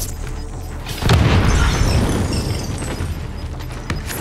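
Heavy booming precision airstrike explosions in the video game Warzone, a loud broadband blast hitting near one second and rumbling on with further detonations, no talk.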